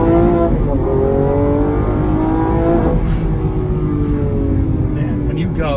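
A Lamborghini Aventador SVJ's engine accelerates hard, a loud, close roar whose pitch climbs and drops through gear changes, with a voice talking over it.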